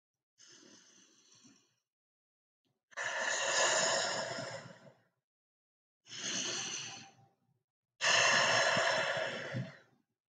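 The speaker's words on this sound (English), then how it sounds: "slowly let out your breath, imagining a long Z" Slow, drawn-out exhales, as in a children's mindful breathing exercise, come close to the mic in four separate breaths, each a soft hissing sigh of one to two seconds, separated by silence.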